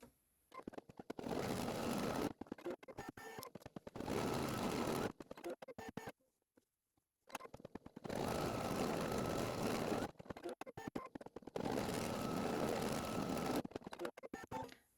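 An embroidery machine sews applique placement stitches on fabric in a hoop, running in long steady bursts of rapid needle chatter with short pauses and one longer silent gap in between, fairly quiet and close.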